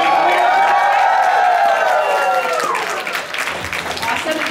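Audience at a cosplay contest cheers and claps loudly, with high whoops and shouts over continuous clapping that eases slightly toward the end.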